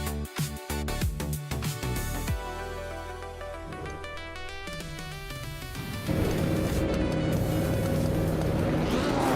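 Vintage race cars, including a classic 1979 BMW, lapping Atlanta Motorsports Park; engines whine and rise through the gears as cars pass close by, with a loud sustained roar building in the final seconds.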